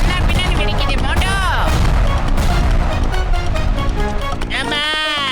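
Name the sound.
cartoon bomb explosions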